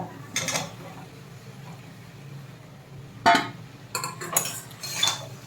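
Metal utensils clink and scrape against a pan as fried vegetables go in, with a few sharp knocks and rattles spaced across a low kitchen background.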